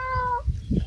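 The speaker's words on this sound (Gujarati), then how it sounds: "મીંદડી અહીંયા આટા મારે છે" A cat gives a single short meow, close and fairly clear, with a little rustling around it.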